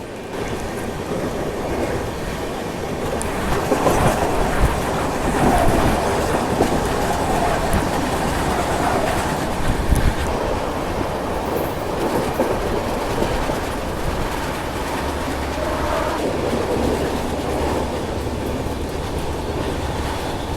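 The Mumbai-Hapa Duronto Express passenger train rolls along the rails with a loud, continuous rumble and rhythmic clickety-clack heard from on board, and there is no talking.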